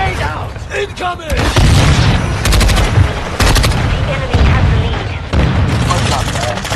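Video game combat erupts with heavy automatic gunfire and booming blasts, including a grenade explosion, in dense overlapping bursts with shouted voices in the mix.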